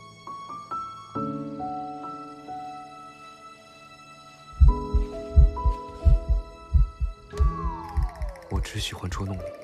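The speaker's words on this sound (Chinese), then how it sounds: "你心跳得好快哦" A fast heartbeat thumps in quick, steady double pulses through the second half of a romantic drama scene, loud and close over soft sustained music.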